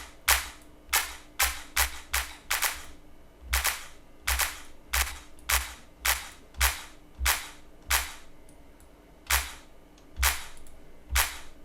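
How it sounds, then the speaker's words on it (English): A crisp, dry clap sample in an FL Studio dance beat hits repeatedly in a steady rhythm, about a dozen sharp snaps over a soft low pulse, with no voices. "And I might use it for this clap."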